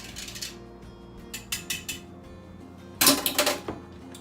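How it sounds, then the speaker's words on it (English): A whisk clicks and scrapes against the metal insert of an Instant Pot while yogurt mixture is stirred, giving a run of quick light taps followed by a louder rapid burst near the end. "get out your old whisk. Whisk it to make sure everything is"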